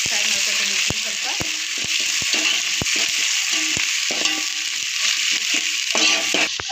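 Onion and masala paste fry for chicken donne biryani, a continuous close sizzle with regular clicks and scrapes of a spoon stirring against the pan throughout.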